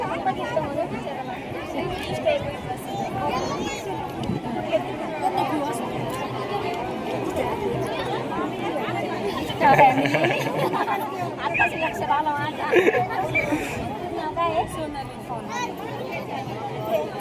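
Large crowd chatter fills the air at the Bhagwangad dindi procession to Pandharpur, a dense, steady hubbub of many voices close around, with occasional louder shouts and bursts rising from the babble.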